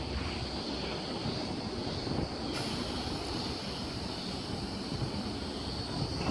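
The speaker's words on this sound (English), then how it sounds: "And S89 is now departing platform number 2, Clyde service" An S-set electric train, service S89 on the Clyde line, pulls out of platform 2 at Rosehill Racecourse station, making a steady broad rumble and whine that holds evenly from start to finish with no voices.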